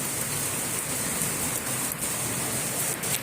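Steady rain falls on guava trees outdoors, a dense, even hiss of drops on leaves that continues without a break and with no voices.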